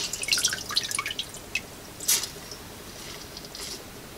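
Water drips from a wrung-out squirrel skin during tag tanning outdoors, a scattering of faint, crisp drops falling irregularly, clustered early and then thinning out, with one brighter splash midway.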